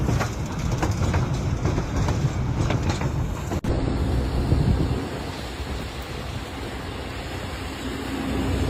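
A train rolls across a high trestle 137 feet above a canyon floor, a steady rumbling clatter of wheels on the span mixed with wind noise, with one sharp knock partway through.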